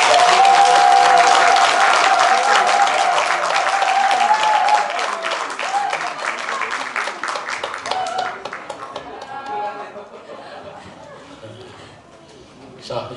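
A crowd at a neighbourhood citizens' meeting applauds the local office staff, with loud, dense clapping that thins and fades over several seconds while people talk underneath.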